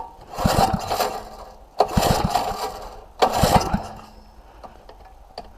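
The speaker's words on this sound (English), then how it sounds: "This is kind of a thirsty engine, so it might like a lot of starting fluid." A 168F 3hp single-cylinder diesel engine on a winch being pull-started, three separate rattling cranking bursts, each failing to catch and dying away, fairly close with no talk.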